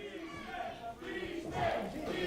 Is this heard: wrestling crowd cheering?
yes